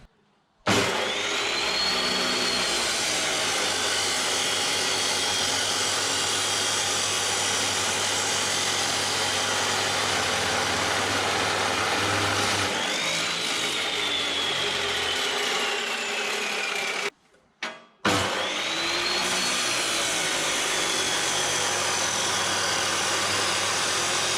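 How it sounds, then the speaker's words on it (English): A drop saw cuts through a slasher's PTO drive shaft, a loud continuous grinding whine of blade on steel that runs almost unbroken for over twenty seconds, pausing briefly near the end before resuming. "we've got the drop saw set up. We'll drop 100 mil off it"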